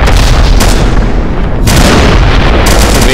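Continuous loud, dense rumbling blasts of video game artillery fire in a military simulation, with heavy low booms rolling into one another for the whole stretch and no voices.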